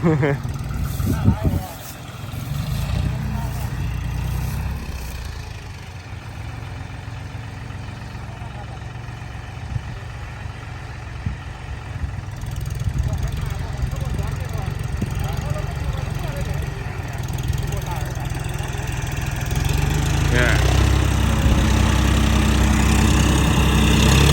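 A John Deere 5040D tractor engine runs steadily at close range, a loud continuous low rumble with a brief dip early on, and a voice talks over it at times.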